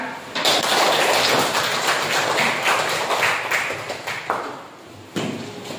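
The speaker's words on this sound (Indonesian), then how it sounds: "Tepuk tangan." A classroom of students clapping their hands together at a teacher's prompt, a dense burst of applause from many hands that trails off, then a few scattered claps.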